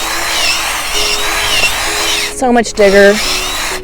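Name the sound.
power drill with auger bit digging planting hole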